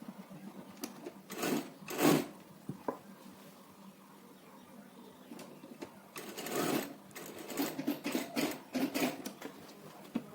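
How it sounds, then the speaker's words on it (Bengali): A sewing machine stitches cloth for a designer blouse neckline, running in several short bursts and longer runs of rapid mechanical whirring with pauses between, close and clear. "ঠিক এইভাবে 2 সুত মতো কাপড় রেখে সেলাই দিয়ে নিচ্ছি।"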